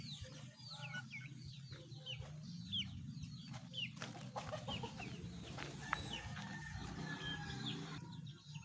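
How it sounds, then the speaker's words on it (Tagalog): Backyard chickens raised as pets, clucking and chattering continuously at a moderate distance, with occasional sharper calls and scratching sounds over a low rumbling background. "Ipapakita ko sa inyo yung aking mga alagang manok."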